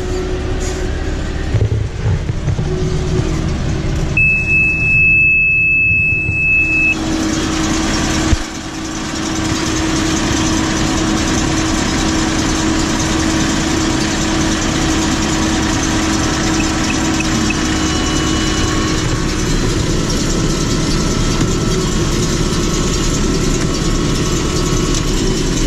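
A tractor engine, working a 6.4 gear and pulling a John Deere baler through a field, runs loudly and steadily for the whole stretch, a continuous close diesel drone with a brief thump and a short high tone early on.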